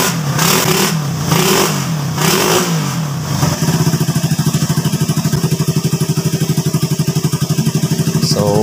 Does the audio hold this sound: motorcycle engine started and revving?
yes